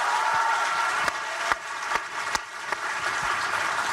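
Festival audience at Cannes applauding Matt Damon, a steady wash of crowd clapping with a few sharper individual claps standing out, filling the room without any voices on top.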